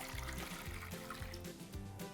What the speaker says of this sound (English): And then I'm just topping that up with water.